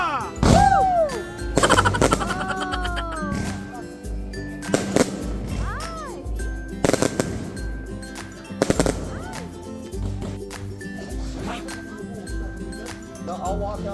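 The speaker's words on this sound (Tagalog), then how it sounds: "Fireworks" Bonfire Night fireworks going off outdoors in the UK: several loud, sharp bangs with crackling and whistling trails, spaced irregularly over the stretch, with people talking and cheering between bursts.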